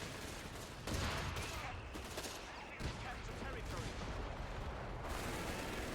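Machine gun suppression fire from a Company of Heroes 3 battle at a Luftwaffe hilltop defence, dense sustained bursts layered with distant booming artillery and explosions, loud and continuous throughout.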